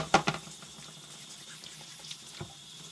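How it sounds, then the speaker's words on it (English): Brief rinse of a knife or sharpening stone under a kitchen tap: a short splash of running water at the start, then faint trickles and drips in a quiet room. "I'm going to set this over here, rinse this off real quick"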